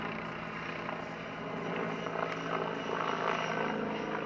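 A T129 ATAK attack helicopter in sideways flight, its rotor thumps and turbine whine filling the air continuously, loud and close, with no voices.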